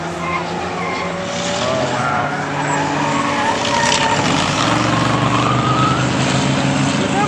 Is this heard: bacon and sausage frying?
no